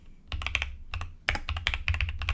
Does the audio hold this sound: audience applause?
no